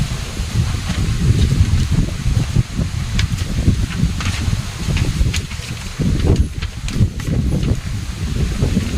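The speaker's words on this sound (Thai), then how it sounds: "โอ้ลมหนาวมากล่ะเด้อพี่น้องเลยลมคักลมแน่บาดนี่ย" Strong, cold wind blows outdoors in a steady, gusty roar that fills the whole stretch, with bursts of rustling and buffeting against the microphone and no voices.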